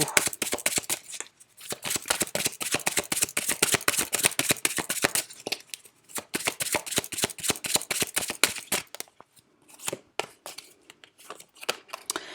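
Oracle cards from a wisdom-themed deck riffled and shuffled by hand at close range, a dense run of quick crisp flicks and slaps that thins into scattered shuffles and taps toward the end, with no voice.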